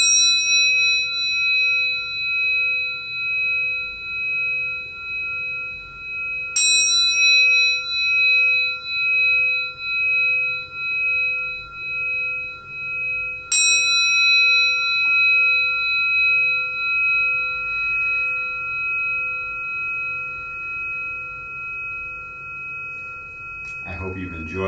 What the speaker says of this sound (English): we end the meditation again with a gong or some sound.